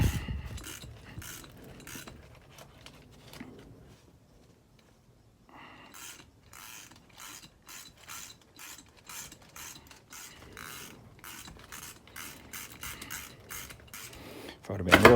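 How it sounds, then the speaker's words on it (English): A socket ratchet clicks in repeated bursts while loosening nuts on a Honda 400EX engine, close and moderately loud, with a short quiet pause partway through. "it should be loose enough that you can take it out with a socket"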